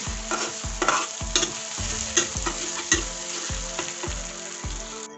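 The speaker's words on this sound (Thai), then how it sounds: "ปลาหมึกเป็นอะไรที่ผัดง่ายนะ" Squid stir-fries in a hot pan for Thai basil squid, a loud continuous sizzle with a regular stirring clank about every three quarters of a second, close and without speech.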